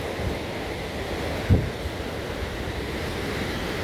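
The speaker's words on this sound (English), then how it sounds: "Much more of that roaring river." Roaring rapids of the Niagara River just above the American Falls make a steady, loud broadband rush of water with wind buffeting the microphone, and a single soft thump near the middle.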